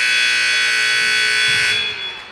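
A loud, sustained electronic buzzer sounds at the end of a quarter in a high school girls' basketball game, holding steady for well over a second before cutting off, with faint crowd and gym noise underneath.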